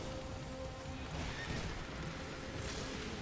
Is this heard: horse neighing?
yes